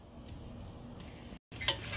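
Ginger and onion sizzling in a pan for Ilokano dry pork intestine, a steady soft frying hiss with light stirring, a brief dropout, then a sharper scrape near the end; no one talks.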